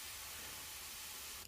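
A steady, soft hiss from an airbrush spraying continuously at close range, broadband and even, cutting off abruptly near the end.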